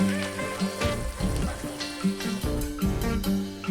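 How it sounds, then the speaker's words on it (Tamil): Onions sautéing in a hot pan for mutton dalcha, a loud close sizzle and crackle broken by repeated stirring scrapes at an uneven rhythm. "வெங்காயம் லைட்டாக கலர் மாறுற வரைக்கும் வணக்கி எடுத்துக்கலாம்"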